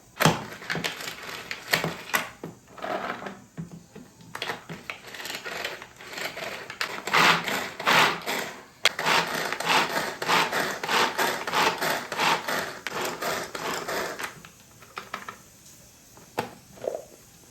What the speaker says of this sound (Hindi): और अब हम इन सबको चॉपर में चॉप कर लेना है।